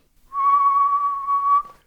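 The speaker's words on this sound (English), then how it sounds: "if I move the air directly, so I can whistle" A person whistles through pursed lips, a single clear sustained tone of about a second and a half, steady in pitch with a slight drop and a quick fade at the end, close and alone.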